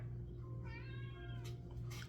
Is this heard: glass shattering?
no